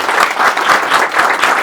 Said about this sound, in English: give Dean a massive round of applause